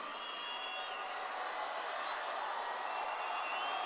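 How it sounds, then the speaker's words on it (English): A large graduation crowd at a high school ceremony cheers and applauds in a steady, dense roar that builds slightly and holds throughout, with scattered whoops rising above the mass of clapping. "Give them a loud cheer of thanks."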